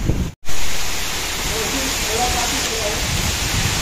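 Heavy rain pours steadily in a broad, close hiss during a June monsoon storm with wind, with a brief dropout near the start and faint voices at moments under the downpour.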